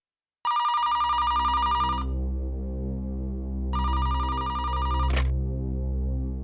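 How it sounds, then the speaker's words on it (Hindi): A telephone rings in a CID bureau office, a steady electronic trilling tone in two bursts over a continuous low hum, with a brief click near the end, fairly loud and alone. "फोन उठाना है प्लीज।"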